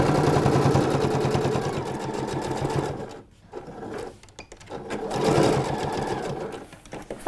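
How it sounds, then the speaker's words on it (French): A sewing machine runs in fast continuous stitching bursts on trousers, loud and close, pausing briefly midway before resuming. "tant qu'on est à la machine, je vais maintenant effectuer ma surpiqûre"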